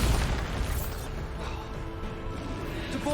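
In the Hogwarts Legacy video game, a Bombarda blasting spell sets off a booming explosion with dense low rumble that carries through the whole stretch, under busy game noise and a crackling tail.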